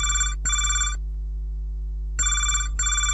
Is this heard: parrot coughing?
no